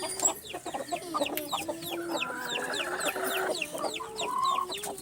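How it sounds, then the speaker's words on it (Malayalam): Fancy white chickens cluck steadily inside a coop, a busy overlapping chorus of short, close clucks and chirps running throughout. "ഇതാ നമുക്ക് ഫാൻസി കോഴി കാണിക്കാം."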